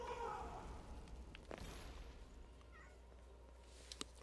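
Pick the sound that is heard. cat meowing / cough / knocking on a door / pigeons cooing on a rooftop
cat meowing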